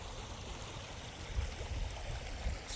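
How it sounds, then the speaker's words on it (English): A creek flowing through a shaded park gives a faint, steady rush and gurgle of running water, with low rumbling wind-like noise underneath and no talking. "with the creek running through it"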